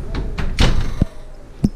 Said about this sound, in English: let's put these in the oven